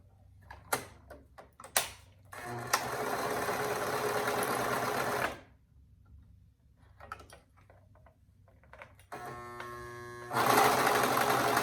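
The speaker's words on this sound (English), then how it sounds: "I'm going to serge that together with a 1/2 inch seam allowance" A serger runs in several bursts, a rapid mechanical whirring with ticking stops and starts between runs, fairly close and steady while stitching.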